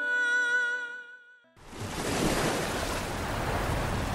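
Ocean waves used as a sound effect in a storybook scene of a ship stopped far out at sea. A steady, full wash of surf swells in after a brief held tone fades and continues strongly to the end.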